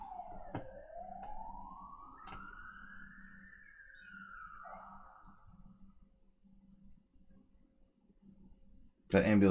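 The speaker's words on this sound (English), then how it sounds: "That ambulance sounded close." An ambulance siren wails in a long rising and falling sweep, seemingly passing nearby outdoors, fairly faint and then fading, with a brief loud noise at the end.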